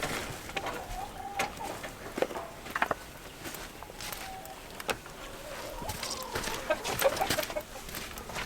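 Chickens cluck and squawk close by in short bursts during morning chores on a Minnesota homestead, with shuffling footsteps and scattered rustling between the calls.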